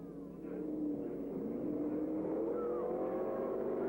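Saloon race cars from the 1982 Australian Saloon Car Championship pass by, a steady engine drone that swells early and holds, with a faint rising whine from another car later on.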